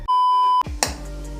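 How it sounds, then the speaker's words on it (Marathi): A phone notification tone: a steady electronic beep held for about half a second, then a clunk and a second short chime over low room noise. "कोणाच तरी फोन आला मित्रांनो"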